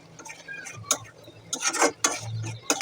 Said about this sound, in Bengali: এখন আমি মাছ আর আলুটা একসাথে অ্যাড করে কষিয়ে নিব মশলার ভিতরে ভালো করে।